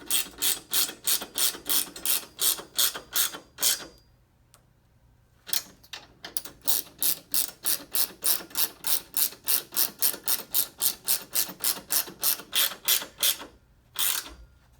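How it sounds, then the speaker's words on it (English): A ratchet wrench being cranked while setting up a Stern Stranger Things Premium pinball machine: rapid, crisp clicking in close-up bursts, pausing near the fourth and fourteenth seconds before resuming. "Allows you to bend up a little handle, and just a more comfortable ratchet to use."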